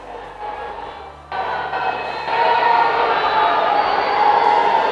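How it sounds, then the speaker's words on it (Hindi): A huge crowd at a political rally with Prime Minister Modi, roaring and cheering in a broad continuous wash that jumps louder partway through and keeps building, distant voices merging into one swell. "इतनी भारी भीड़ है।"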